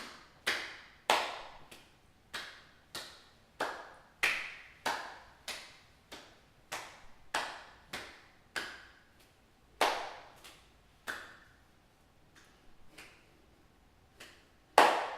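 Hand claps alternating in front of and behind the body during a power yoga class, roughly one sharp clap per second, close and distinct with no talking.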